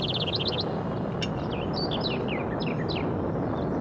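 Birds in the Mega Man Legends game chirp in quick repeated tweets, some far and some nearer, over a steady noisy ambient background.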